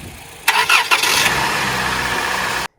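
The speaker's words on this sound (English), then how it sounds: "We will now start the vehicle." A car engine is cranked while being jump started from a dead battery, catches after about half a second and settles into a steady, loud idle that runs until the sound cuts off abruptly.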